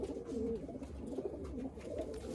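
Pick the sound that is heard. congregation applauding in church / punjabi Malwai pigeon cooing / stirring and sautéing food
punjabi Malwai pigeon cooing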